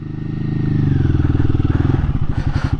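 Royal Enfield Guerrilla 450 motorcycle engine running close by at low revs, a loud throbbing, evenly pulsing exhaust beat that swells slightly and then steadies, with a faint clatter near the end.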